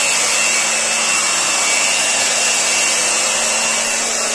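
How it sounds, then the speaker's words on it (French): A hot air blower roars steadily and loudly, drying a soft render plaster coat on a wall, a constant broadband whoosh with a faint whine and no pauses. "vous prenez encore votre souffleur"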